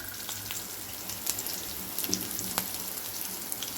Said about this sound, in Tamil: இந்த அளவு பாசிப்பருப்பு அது நல்லா எண்ணெயிலே பாசிப்பருப்பு பொரியட்டும்